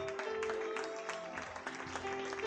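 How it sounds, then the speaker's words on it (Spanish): Church congregation applauding for the Lord during a worship service, a steady, moderate patter of many hands over sustained musical tones from instruments. "Ese aplauso para el Señor"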